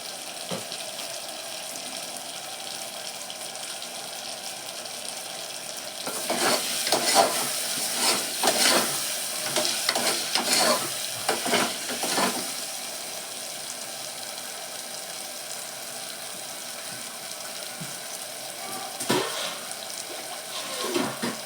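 Potatoes fry in oil with a quiet, steady sizzle, broken by a cluster of scraping stirs in the middle and another brief stir near the end, close by with no voices.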